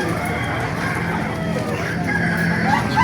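Roosters and chickens cluck and call at a busy poultry market in Baliuag, a dense, constant background of fowl noise with crowing rising near the end and voices murmuring amid the crowd.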